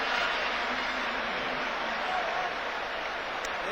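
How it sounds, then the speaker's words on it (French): Steady, distant wash of applause from the crowd at the Stade des Martyrs as Samuel Eto'o, Cameroon's captain, leaves the field in a DR Congo vs Cameroon 2012 Africa Cup of Nations qualifier, sustained and even throughout. "qui quitte sous les applaudissements du public"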